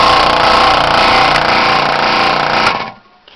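A King Canada scroll saw runs with its small dust-blowing air pump, a loud steady buzzing mechanical drone that holds evenly and then cuts off abruptly near the end.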